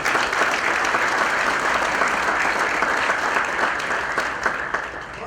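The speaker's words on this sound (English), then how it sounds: "Again, round of applause." An audience at a summit keynote gives a steady, dense round of applause, loud and sustained throughout before easing slightly at the end.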